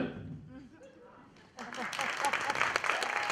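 Applause breaks out at a French business event, rising suddenly after a quiet stretch of murmured talk into a steady, moderately loud clapping crowd that carries on to the end.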